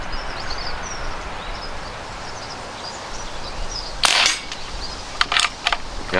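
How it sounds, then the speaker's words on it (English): An Aselkon Ravello RX6 air rifle fires one sharp, brief crack, followed a second later by a few lighter clicks, against a steady outdoor background with faint birdsong. "This should be the last shot."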